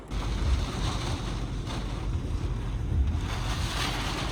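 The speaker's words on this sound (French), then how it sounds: "Regardez-moi ces rafales." Strong wind gusts roar continuously during an Italian thunderstorm, a loud, buffeting rush of wind noise hitting the microphone with no talking.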